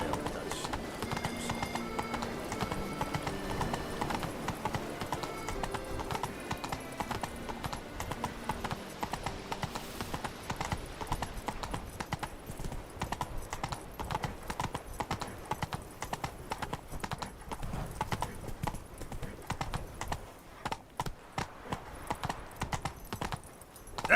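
Roach, a horse in the video game Witcher 3, trots along with steady rhythmic clip-clopping hooves, close and continuous over a soft musical background, the hoofbeats growing sharper and more distinct toward the end.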